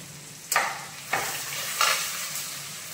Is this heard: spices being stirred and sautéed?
yes